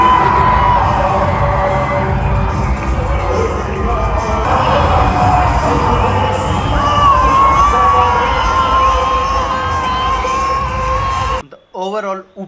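A large crowd at the Attari-Wagah border ceremony keeps up a continuous roar of shouting, whoops and cheering that swells and stays loud for about eleven seconds. It then cuts off abruptly and a brief voice follows.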